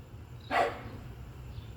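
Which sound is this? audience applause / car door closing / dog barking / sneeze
dog barking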